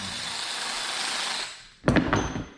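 A small impact wrench driving a bearing puller gives a short, loud burst of rattling hammering near the end, preceded by a steady background hiss.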